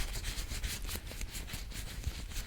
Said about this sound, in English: I'm going to take this earlobe first and just rub that